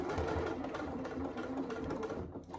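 A sewing machine runs steadily, stitching a seam on a wash bag at a 3/8 inch allowance with backstitching, a close, continuous whirring hum with slight speed shifts and no talk.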